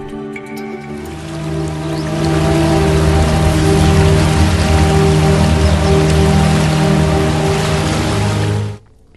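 Heavy rain pours in Tirunelveli district in Tamil Nadu, India, during flooding, a loud, steady hiss that builds and holds before cutting off, with a low hum beneath and no voices.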